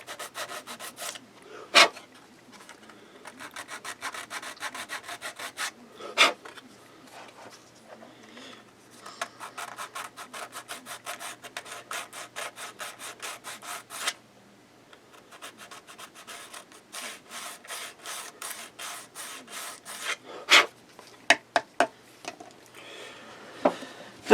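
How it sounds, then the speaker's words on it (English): A sanding stick rubs back and forth on a model grain elevator kit piece in quick, steady rasping strokes, close up, with a few sharper scrapes and pauses, no talking. "Take a sanding stick"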